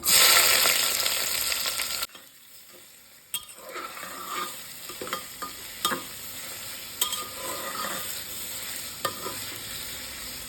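Onion frying with garam masala and chillies in a pan: a loud sizzle that drops away briefly, then returns as a steady fry punctuated by intermittent metallic clicks and scrapes of stirring.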